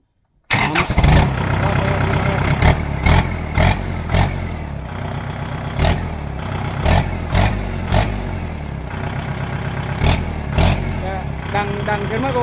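A Kubota L5018 tractor engine with a modified, cut open exhaust pipe starts up and runs loud and close, with a throbbing idle, repeated revs and speech over it.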